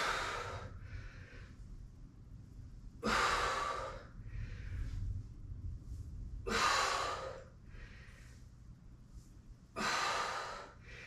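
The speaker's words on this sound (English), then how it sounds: "Breathing out as you're coming up." Strong exhales during a pregnancy strength workout exercise, three loud breathy blows at a steady rhythm a few seconds apart, with softer breaths between them and a low hum underneath.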